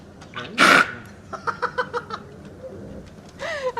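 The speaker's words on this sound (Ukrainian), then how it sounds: "Ти чого гавкаєш?" A large dog barks a few short times, with a loud yelp-like burst followed by a series of quick, evenly spaced barks nearby; bird-like chirps also appear.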